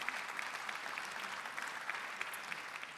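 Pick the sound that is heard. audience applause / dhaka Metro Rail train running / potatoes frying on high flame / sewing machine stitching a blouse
audience applause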